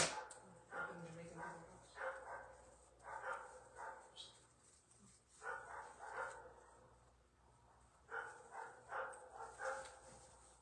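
A dog barks in short repeated bursts of a few yips each, fairly distant and faint, with a person talking quietly in between.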